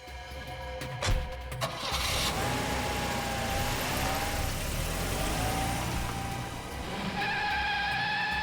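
A car engine cranks and catches with a sharp burst, then revs and runs at a steady mid-pitched drone, rising again near the end, loud and close.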